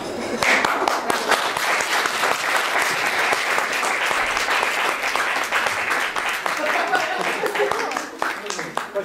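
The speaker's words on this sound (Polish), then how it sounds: "tak się kończą sesje. Oklaskami." Audience applause fills the room at the close of a session in Katowice, a dense, steady wash of many hands clapping for about nine seconds before thinning slightly near the end.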